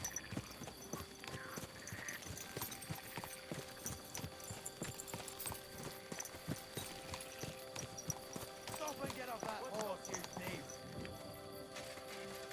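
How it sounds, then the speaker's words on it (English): Steady horse hoofbeats clip-clop at a trotting rhythm over a busy background of music and game effects in Kingdom Come: Deliverance 2, with a voice briefly speaking. "And just like that, I have a horse again."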